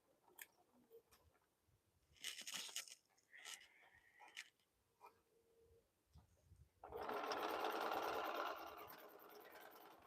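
A sewing machine stitching darts on fabric bowl cozies starts up loud and close, a steady whirring run after scattered small clicks, snips and handling noises.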